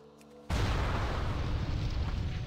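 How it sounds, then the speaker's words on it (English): Fireworks in World of Warcraft go off in a sudden loud burst of crackling, booming explosions that starts abruptly and keeps rumbling densely without a break. "There's a few fireworks over this side"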